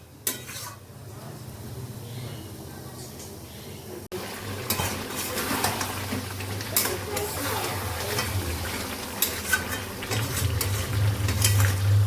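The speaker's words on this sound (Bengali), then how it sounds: "ভালো করে ভেজে নিই মাংসটা দিয়ে দিলাম পেঁয়াজটা একদম লাল করে ভেজে নিয়েছিলাম" Mutton pieces sizzle and fry in a pan with deep-browned onions, a steady close hiss broken by scraping stirs and the clink of a utensil against the pan, growing louder in the second half.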